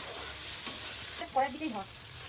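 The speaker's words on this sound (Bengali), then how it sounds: "টমেটোটাও পেঁয়াজের সাথে ভালো করে ভেজে নেব" Onion and tomato stir-fry in a pan, with a soft steady sizzle under a few scraping spatula strokes, close and quiet, and no one speaking.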